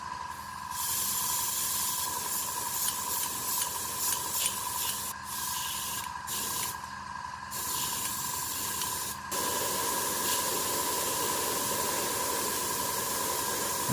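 Steady, loud hiss of air blowing through an AS-186 airbrush with no paint, continuous for the whole stretch apart from a few brief dips.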